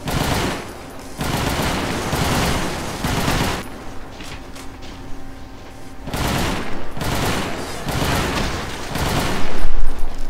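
Loud bursts of rapid automatic gunfire in the video game Call of DooM come in repeated volleys with short pauses between, dense and sustained throughout.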